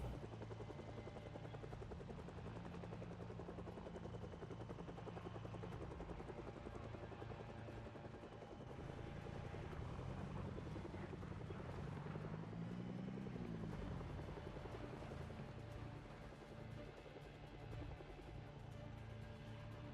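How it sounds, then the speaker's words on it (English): A helicopter in the Project Zomboid video game drones continuously with a steady rotor thrum, swelling slightly as it passes overhead around the middle, then holding at a constant faint distance. "if this helicopter loops back for a third or fourth time, I'm gonna be a little upset."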